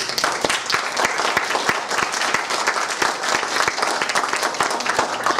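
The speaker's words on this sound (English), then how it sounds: "I think we should applaud those who do" Audience applause at a public policy forum on the Illinois fiscal crisis, a loud, steady wash of many hands clapping throughout, close and continuous with no pauses.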